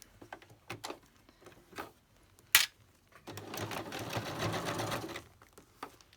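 A few faint clicks and a sharp tap come first, then a sewing machine stitching down fabric for a decorated folder runs in a steady rapid whir for about two seconds.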